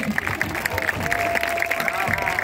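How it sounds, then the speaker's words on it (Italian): An audience at an outdoor evening street show in Molina di Fiemme, Trentino, claps steadily and densely throughout, with crowd murmur mixed in and a voice talking over the applause. "Sta riprendendo voi, quindi applaudite, fate carini"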